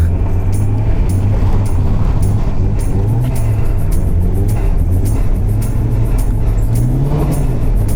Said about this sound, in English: Just modulating the throttle at 3000 RPM is plenty enough to keep the car sideways on third gear